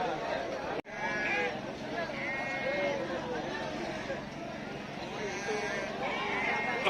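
Lambs and sheep bleat repeatedly at the busy Kerur Tuesday-morning livestock market, their wavering calls rising over a steady crowd murmur and nearby voices talking.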